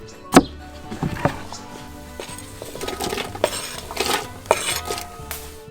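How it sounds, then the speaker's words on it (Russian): A knife cuts potatoes into small pieces on a board in a village kitchen, with several sharp knocks and clinks of utensils spread irregularly over a low background, no voices. "Сначала берем картошку и нарезаем ее на небольшие кусочки."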